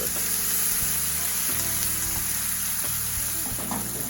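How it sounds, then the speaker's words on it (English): Kimchi paste sizzles in a hot pan while being stirred, a steady, close crackling hiss with scraping strokes and a low background hum. "Let's give this a nice stir."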